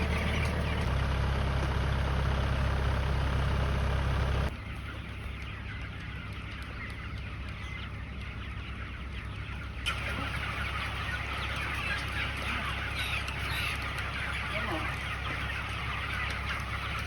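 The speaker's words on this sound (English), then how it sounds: "So this is our USDA group of meat birds." Cornish Cross meat chickens on pasture cluck and chatter continuously at moderate distance over a constant low mechanical hum that shifts partway through.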